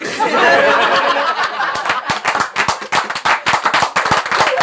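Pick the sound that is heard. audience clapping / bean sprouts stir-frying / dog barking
audience clapping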